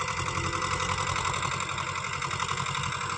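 A tractor engine runs steadily and close by in a farm field where the tractor keeps getting stuck in the soil, with a constant mid-pitched drone and a slightly rough knock throughout and no talking.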